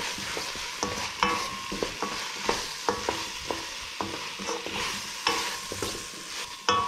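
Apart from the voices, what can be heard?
onions and potatoes sautéing and being stirred in a pan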